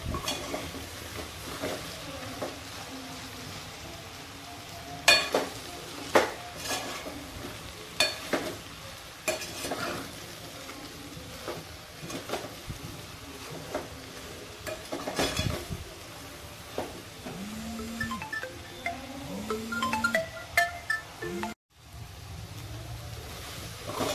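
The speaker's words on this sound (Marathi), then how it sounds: "आता त्यामध्ये मी सोयाबीन टाकते आणि सर्व मिक्स करून घेते" Soybeans for pulao are stirred in a pan with a metal spoon, producing repeated scraping and clinking against the pan over a low continuous sizzle, close up and steady throughout.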